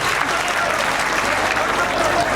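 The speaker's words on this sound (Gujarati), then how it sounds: "ફરી વખત ભંડેરી પરિવારને પણ તાળીઓથી વધાવો" A crowd at a wedding gathering claps together in dense, steady applause that stays loud and even throughout, with no pauses.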